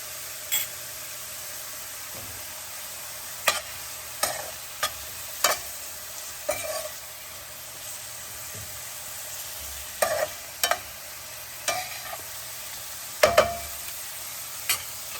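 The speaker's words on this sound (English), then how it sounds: "So while that is frying nicely" Soft, steady sizzling of upma mixture frying in a pan, broken by repeated clinks and scrapes of a utensil stirring, with no talking.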